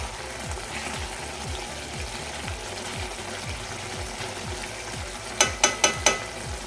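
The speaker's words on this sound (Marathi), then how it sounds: "आता आपण हे मिक्स करूया पूर्ण व्यवस्थित ढवळून घेऊया" Dried bombil (Bombay duck) curry being stirred in a pan, Agri style, with a steady run of soft scraping strokes against low sizzling, ending in four sharper clinks of the spoon on the pan.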